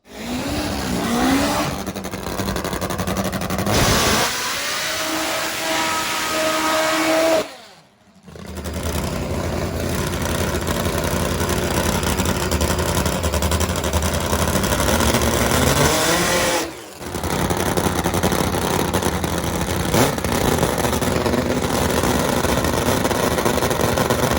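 Top fuel drag motorcycle engine racing, a loud continuous roar with rising revs and brief drops between runs, filling the whole stretch with no talk.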